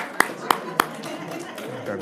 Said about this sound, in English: I wonder if they're clapping because you're done.